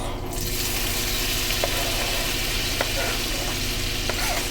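Tomatoes and chilies sizzle in a hot pan on the stove for an Asian-style noodle dish, a loud continuous close fry with a few faint utensil taps.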